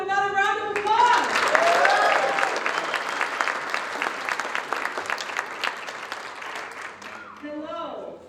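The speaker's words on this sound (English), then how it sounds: "Let's give him another round of applause." Round of applause from an audience at a World Pride 2021 bid event in Fort Lauderdale, steady crowd clapping heard fairly close, with a voice speaking over the start and the end as the clapping fades.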